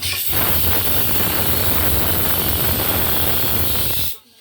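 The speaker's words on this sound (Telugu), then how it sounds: "విజిల్ వచ్చింది. కుక్కర్ టాప్కి వెళ్ళిపోయింది" A pressure cooker whistle releases a loud, steady hiss of steam that carries for about four seconds and then cuts off abruptly.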